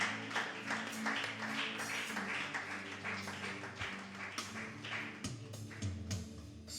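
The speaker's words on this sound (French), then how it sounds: "acclamons la présence de Dieu" A church congregation claps along in a steady rhythm, with many overlapping hands producing a dense patter over sustained music, moderately loud and continuous throughout.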